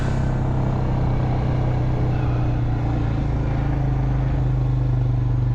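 A four-wheel drive vehicle's engine drones steadily with a low rumble while driving across a wet farm, the hum constant and close with faint clatter, no talking.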